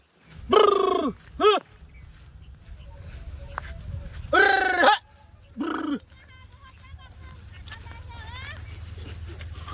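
Goats bleating in several loud, short calls, two close together and then two more after a pause, over a steady low background hum in a rural comedy scene.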